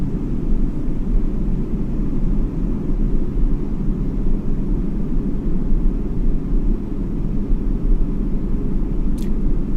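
A Concorde jet airliner in the Microsoft Flight Simulator game produces a steady, dense engine roar and rumble, loud and unbroken throughout, with no talk over it.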